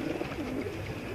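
Blue pigeons coo in a soft, continuous rolling murmur close by, with a dense bed of flock noise and no talking.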